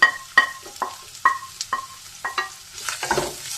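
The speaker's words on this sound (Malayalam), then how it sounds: "ഞാൻ ജസ്റ്റ് ഒന്ന് വഴറ്റാം" Chopped small onions sautéed in a pan for crispy rava and potato snacks: a run of sharp spatula scrapes and clinks against the pan at an uneven rhythm, with a faint sizzle building toward the end, close and without speech.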